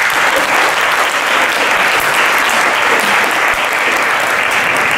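Loud, continuous applause from a large audience welcoming a speaker, dense clapping filling the whole stretch without pause.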